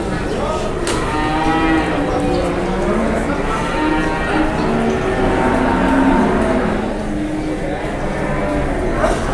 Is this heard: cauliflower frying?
no